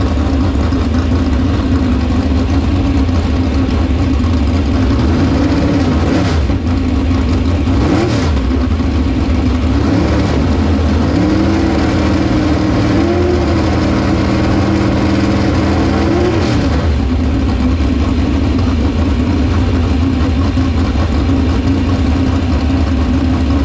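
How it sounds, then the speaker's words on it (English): Silver Crown race car engine idling steadily and loud up close, with a lumpy low rumble and a few brief throttle blips partway through, no voices. "Just idling the car, checking oil pressure, making sure everything's fueled right, sounds right, idles right"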